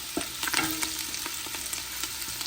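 Garlic and chopped jalapeno chilies sizzle in a hot pan, a steady frying hiss broken by scraping stir strokes and light clatter, close and moderately quiet with no talking.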